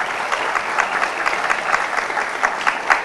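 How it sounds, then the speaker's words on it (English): Steady round of audience applause for alumni at a university Founder's Day convocation, continuous dense clapping from a large hall crowd, no voices over it. "All alumni, give them a round of applause"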